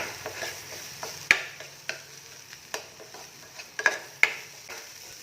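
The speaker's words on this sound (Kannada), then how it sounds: "ಇದು ಹಸಿ ವಾಸನೆ ಹೋಗೋವರೆಗೂ ಚೆನ್ನಾಗಿ ಫ್ರೈ ಮಾಡ್ಕೊಳ್ಳಿ." Masala for kadai paneer fries in a pan with a steady low sizzle, while a spatula stirs it and taps the pan in sharp, evenly spaced clicks about every half second, close and moderately loud.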